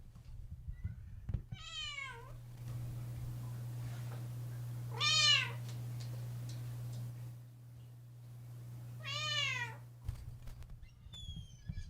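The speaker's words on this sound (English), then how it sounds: "you've had your good night meows" Pet cat Maya gives three drawn-out goodnight meows, spaced several seconds apart, close to the microphone over a steady low hum in an indoor room.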